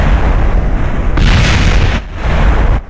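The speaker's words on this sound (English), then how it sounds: "our bottom engine went bang as well" A rocket engine explodes in Kerbal Space Program, giving loud, close booming bursts with a brief lull between them before a final cut-off.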